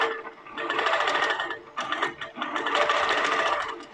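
A Pro-Stitcher Lite computerized quilting machine stitches out a design, its steady rapid needle chatter running continuously with two brief dips in loudness, close and prominent with no talking.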